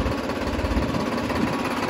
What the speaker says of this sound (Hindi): ट्रैक्टर स्टार्ट करता